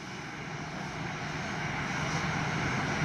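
A WestJet airliner on final approach to runway 25 at Montego Bay: a steady, droning engine roar that slowly grows louder as the plane draws closer, with no voices.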